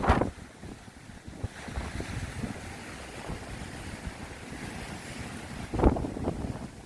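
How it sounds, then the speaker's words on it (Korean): Sea waves surge and break against the rocks at Yeonggeumjeong beside Dongmyeong Port, a steady roar of surf with wind buffeting the microphone and heavier crashes near the start and again near the end. "파도가 이렇게 아름답게 자음만을 예, 연출하고 있습니다."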